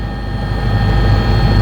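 Helicopter on a tourist joyride over Mahabaleshwar during a tourism festival, heard from inside as a steady, loud low rotor and engine drone that holds constant with no talking.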